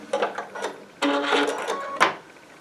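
A Baby Lock Altair sewing machine stitches quilt binding in short bursts, with a couple of brief runs and a louder stretch near the middle, close by and without talk.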